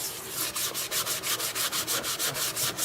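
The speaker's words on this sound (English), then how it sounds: "Gonna apply a little bit of Yorkshire grit and see if I can smooth this down a little bit." Wood is rubbed smooth with Yorkshire grit sanding aid in quick, even back-and-forth strokes, close and loud, about five strokes per second.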